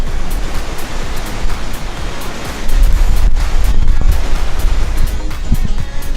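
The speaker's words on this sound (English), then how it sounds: "Big waves are coming here." Big ocean waves at a beach near Sydney, Australia break in a continuous loud rushing surf, swelling heavier partway through, with wind buffeting the microphone.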